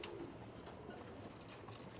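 Color pigeon cooing softly and faintly, a low murmuring call held briefly over a quiet indoor background.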